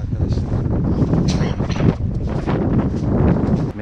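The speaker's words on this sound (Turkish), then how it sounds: "Soğuk çok soğuk ve esiyor arkadaşlar." Cold wind at the Davraz ski resort, blowing steadily and rumbling against the microphone at close range, fairly loud, with a voice speaking over it.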